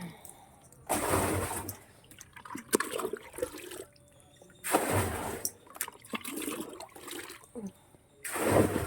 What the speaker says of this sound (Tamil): தண்ணி ரொம்ப கம்மியாக வருது